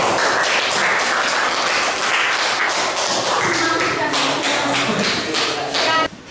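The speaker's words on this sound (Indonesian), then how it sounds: "Beri tepuk tangan dulu" A class applauds after a group project presentation at a Catholic teacher-training college in Merauke: dense, sustained hand clapping from many people, loud and steady for several seconds, cutting off near the end.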